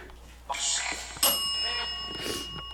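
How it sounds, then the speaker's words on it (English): A bright bell rings in several quick, clear strikes with lingering metallic tones, moderately close, in a quiet room with faint background noise. "Who keeps ringing the bell?"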